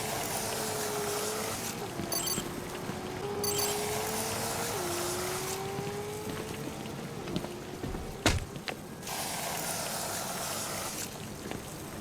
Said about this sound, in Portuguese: A equipa de efeitos sonoros usou o áudio de 3 latas de chantilly diferentes para criar o efeito sonoro que ouvimos na série Arkham.